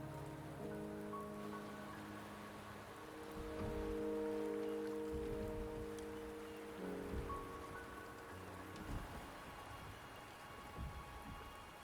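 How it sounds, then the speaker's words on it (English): Steady rain falls in the game Wuthering Waves, a continuous hiss of drops on surfaces under soft sustained music, swelling slightly in the middle. "The rain is subsiding, and the sky will soon clear."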